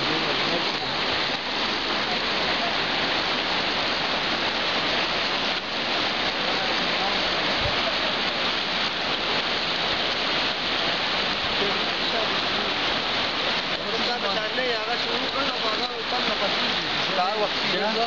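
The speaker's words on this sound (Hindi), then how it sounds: "बारिश चल रही है" Steady, dense rain hissing loudly and continuously throughout, with faint voices buried underneath.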